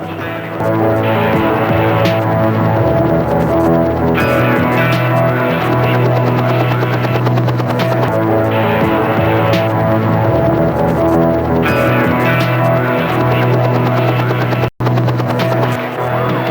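A helicopter's deep, steady rotor throb with a droning engine hum, loud and continuous throughout, as if heard from inside or very close.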